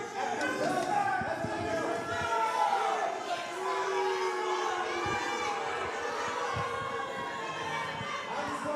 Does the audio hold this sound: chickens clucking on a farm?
no